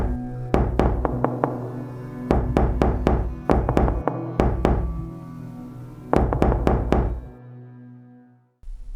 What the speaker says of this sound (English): There is another knock, this time loudly, almost desperately.